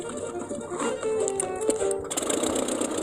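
Buzzy, rattling small plane engine running close by, sounding like a lawn mower engine, uneven and mechanical, rising in intensity partway through.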